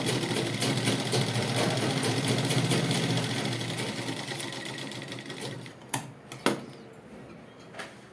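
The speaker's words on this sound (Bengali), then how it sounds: "দু সাইড কিন্তু আমি সেলাই করে নিচ্ছি, একদিক হয়ে গেছে।" A sewing machine runs steadily, stitching along the sides of churidar fabric with a dense, rapid mechanical whirr, then stops, followed by a few sharp clicks and knocks.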